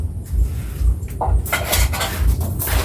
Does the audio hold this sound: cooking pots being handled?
yes